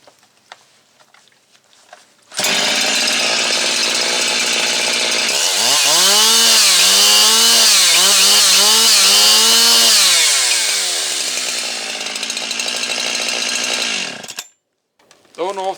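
Husqvarna 362XP chainsaw with a newly changed ignition coil starts up and runs, a loud close two-stroke roar that revs up and down in repeated surges before settling and cutting off.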